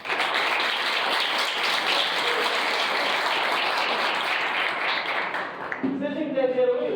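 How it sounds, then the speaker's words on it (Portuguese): A church audience at a Catholic Marian study gathering breaks into loud, sustained applause that fills the room steadily for several seconds, then fades as a voice starts speaking near the end. "Palmas para Adão e Eva."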